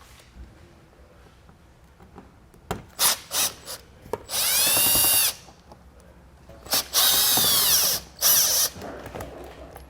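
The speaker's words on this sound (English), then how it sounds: "We still got a couple of fasteners there that we'll need to remove with our Torx socket now." A power tool with a Torx socket removes fasteners during a Blue Ox base plate install on a 2020 Chevrolet Sonic; several short close bursts, then two longer whirring runs with pauses between, no talk.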